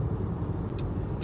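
A Kia Soul is driving, with a steady low road and engine rumble heard from inside the cabin and a couple of faint brief ticks riding over it.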